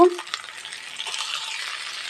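Salted taro stolons fry in a pan as they are stirred, producing a close, even sizzle that starts with a sharp clink and carries soft scraping strokes without any voice.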